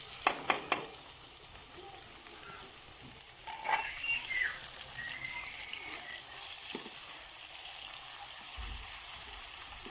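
Chopped tomatoes go into a pan of onions frying until pinkish, giving a steady sizzle with a few clinks and stirring scrapes near the start and a soft splash of ingredients partway through.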